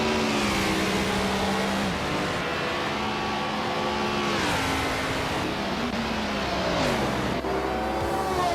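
A 1973 Alfa Romeo Tipo 33 T12 race car in a racing video game roars loudly and steadily, its engine note climbing and dropping through gear changes and revving during the lap, with no talking.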